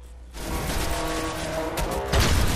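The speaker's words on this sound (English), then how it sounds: "There's some sort of artillery." Artillery fire in the video game Destiny, a dense, continuous barrage of booming blasts and rumbling impacts that grows louder and heavier toward the end.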